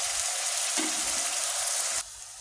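Onions sauté in a pan with a steady, bright sizzling hiss that cuts off sharply near the end, leaving a quieter background.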